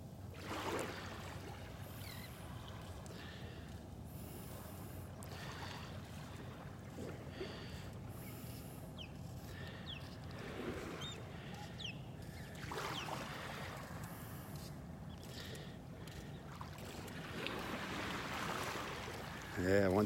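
Gentle ocean waves washing ashore on a beach in North Naples, Florida, soft swells rising and falling in slow surges, fairly faint under light wind, with a brief voice.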